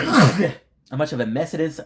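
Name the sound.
sneeze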